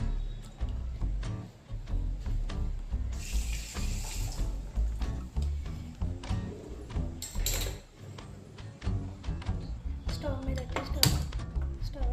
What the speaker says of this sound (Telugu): పది నిమిషాలు బాగా మసలు ఇవ్వాలి దీన్ని రసం ఇలా తిప్పుతూ ఉండాలి